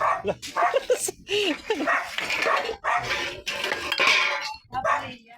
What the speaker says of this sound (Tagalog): yung aso nyo rin